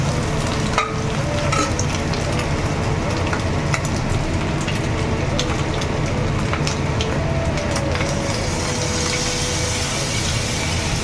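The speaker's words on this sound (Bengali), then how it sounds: "ভাজা করে চিকেন আর চিংড়ি মাছটা চলে গেল" Chicken and prawns stir-fry in a hot pan for mixed fried rice, giving a loud, dense sizzle with constant scraping and tossing close up, a steady roar from start to finish and no voices.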